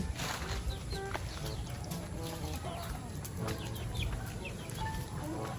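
Pet chickens cluck and call in an outdoor yard, several short, faint, scattered clucks rising over a steady background hiss.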